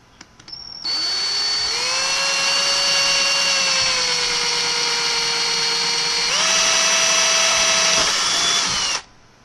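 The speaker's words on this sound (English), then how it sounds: "try to get the drill bit relatively level." A power drill whines up, holds a steady high-pitched drone as it bores through the wood of a ukulele, shifts pitch partway through, then stops abruptly.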